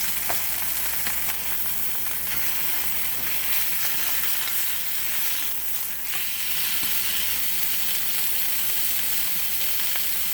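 Chicken pieces brown in a hot frying pan for a creamy chicken pasta, giving a steady, even sizzle and hiss that carries on unbroken with no voices.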